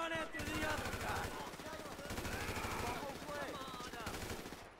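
Rapid automatic AK rifle fire in Grand Theft Auto 5 crackles in several sustained bursts, with game voices and music-like tones running underneath.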